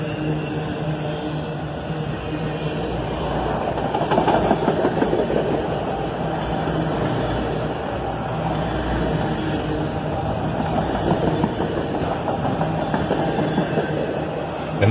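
A loaded coal train slows into a siding, a loud continuous rumble of wheels and rail cars with faint rhythmic clatter, close by and with no voices.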